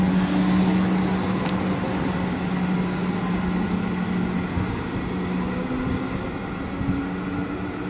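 A suburban electric train, 371, departing North Williamstown station in Melbourne, a loud steady motor hum and rumble that slowly fades as it pulls away, with no talk.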